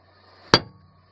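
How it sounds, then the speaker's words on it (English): A hammer strikes a lump of melted metal recovered from gold leaf once, giving a single sharp, fairly loud knock that dies away quickly over a low background hum. "We're gonna hit this with a hammer just to see how soft it is."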